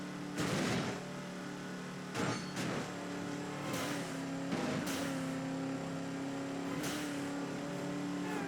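Car braking and engine noise in Midnight Club 3 Dub Edition Remix as cross traffic passes, a steady engine drone broken by several sharp bursts of impact and tire noise, loud and close.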